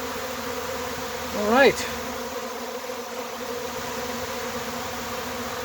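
A honeybee swarm buzzes steadily as it moves into a swarm trap, with a louder rising whine as a bee passes close by; a person speaks briefly.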